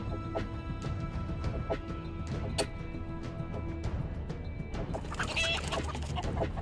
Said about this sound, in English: if you backed out, it would play the chicken sound effect